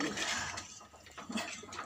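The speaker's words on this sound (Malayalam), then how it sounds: "ഈ പുളിവെള്ളം ഒഴിക്കുക" Tamarind water poured into a sardine curry, a soft continuous watery splashing and gurgle that stays steady and close for the whole moment.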